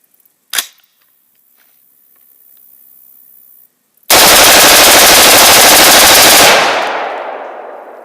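Rapid, loud burst of automatic fire from an AR-15 rifle fitted with a LARB buffer, preceded by a single sharp shot and a quiet stretch, the volley lasting a few seconds before ringing away.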